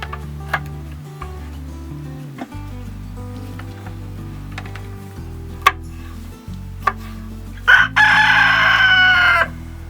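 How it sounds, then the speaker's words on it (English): Chickens on a homestead where Yukon Gold seed potatoes are being cut and planted, with a rooster crowing loudly near the end over steady background music and scattered sharp ticks. "Chickens like those potatoes."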